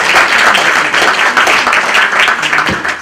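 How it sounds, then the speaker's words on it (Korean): A church congregation claps together in thick, steady applause, loud and close, sustained evenly from start to finish. "모든 감사의 박수 하나님께 먼저 올려드립니다."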